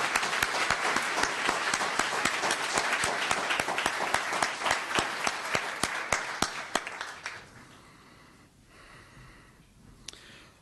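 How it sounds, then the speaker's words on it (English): An audience at a town council meeting applauds, steady crisp clapping for about seven seconds before dying away to a quiet room with a few stray claps. "please show a round of applause for these people who serve our regional community"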